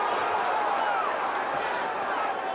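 Boxing arena crowd on its feet cheering during the Michael Moorer vs Bert Cooper heavyweight fight, a dense, steady roar of many voices that stays loud and continuous with a brief swell near the middle.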